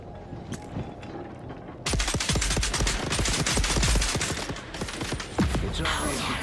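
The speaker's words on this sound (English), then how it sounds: "we're going to try out the pistol now" Rapid, sharp gunshots from a pistol in the video game Dune Awakening burst in suddenly after a quieter stretch, then crack repeatedly and loudly in a dense, uneven volley to the end.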